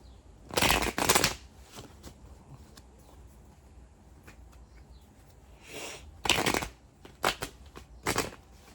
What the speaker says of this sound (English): I hate when my cards shuffle like that.